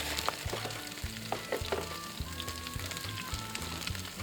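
Chicken pieces sizzle and char in a hot cast-iron camp oven, a steady close frying hiss with sharp crackles and spits, joined by several dull clunks of the food being turned or pressed, with no talking.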